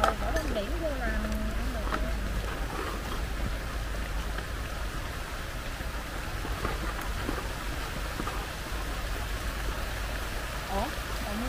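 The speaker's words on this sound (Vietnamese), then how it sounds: "Ủa, còn mưa nữa hả?" Rain falls around a newly built rural hut in the Vietnamese countryside, a soft, continuous hiss of drops on surfaces as people talk nearby.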